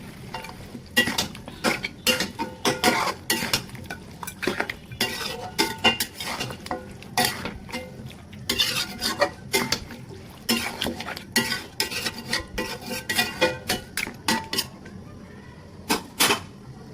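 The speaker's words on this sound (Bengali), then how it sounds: "এখন মাংসগুলোকে মশলার সাথে মিশিয়ে দিতে হবে" A spoon scrapes and clatters against a pot again and again as large pieces of beef are stirred into spices for a bhuna curry, a busy, uneven rhythm of close metallic knocks.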